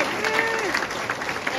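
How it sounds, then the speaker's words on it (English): A short burst of applause from a crowd at a Chinese New Year party, clapping steadily over a low murmur, with a brief voice or whistle rising through it. "So, everyone, give a hand of applause for Miss Cynthia Liu."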